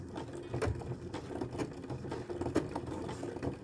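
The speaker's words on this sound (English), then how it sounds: "this machine's doing like a lock stitching effectively" Sewing machine running a lock stitch on a lap zipper, a steady mechanical whirring with small rhythmic clicks and bursts, close and fairly quiet, no talking.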